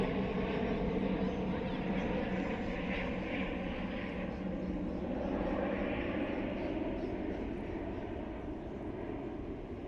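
A large jet airplane flies over Richmond, London, a wide, continuous rumbling roar that swells slightly in the middle and eases toward the end, steady and moderately loud throughout.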